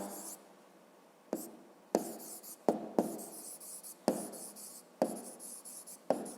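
A pen writing on paper while working a fifth-grade math exercise, a handful of close, distinct scratchy strokes in short bursts separated by quiet pauses.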